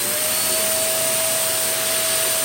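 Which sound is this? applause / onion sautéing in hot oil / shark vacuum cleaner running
shark vacuum cleaner running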